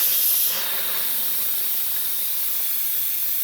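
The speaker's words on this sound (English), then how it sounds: "It's 5 minutes, so I'm going to release the steam from inside." Steam hisses steadily from a pressure cooker valve after cooking kala chana and potatoes, a loud, continuous close rush that begins slightly stronger and then holds even, with no talking.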